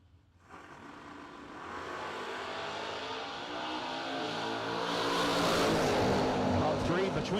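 Door-car drag racing with a Chevrolet S10 and a Camaro race car: after a brief quiet start, loud engines roar and rev, building in volume and pitch as the cars launch and pull away.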